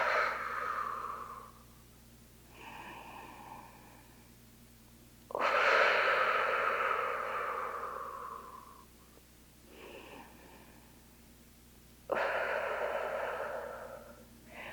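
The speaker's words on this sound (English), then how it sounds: "let's just take a few deep breaths here" Slow, deep breathing during a Pilates stretch in a bodyweight posture workout, with long audible inhales and exhales repeating about every few seconds, close and alone with no talking.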